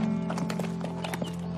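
A horse clip-clops at an unhurried walk in an outdoor summer-camp setting, its hooves striking in an irregular rhythm over a steady low hum, with no clear speech.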